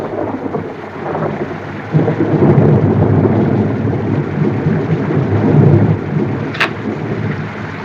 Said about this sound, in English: How long do you think the storm will last